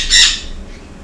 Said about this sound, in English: One little bird, and he's a noisy dude.